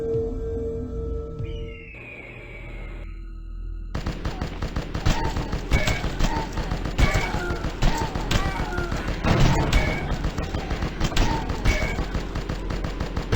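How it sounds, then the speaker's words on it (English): A tower gun firing at zombies in a video game, rapid repeated shots in a steady loud stream after a quieter opening of game sounds, mixed with small chirping effects and a voice talking over it. "It's nice to see the tower gun is a bit more effective."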